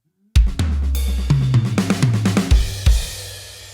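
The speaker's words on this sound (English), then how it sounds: "there we have 3 beats of sextuplets, which is 6 hits per beat" Drum kit fill in a solo, three beats of sextuplets rolling rapidly around the toms from high to low, loud and close, ending with cymbal crashes that ring out.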